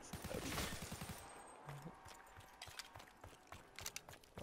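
Rapid automatic gunfire from Black Ops 3 Zombies, a burst of close, rattling shots in the first second and a half, then scattered quieter in-game clicks and impacts.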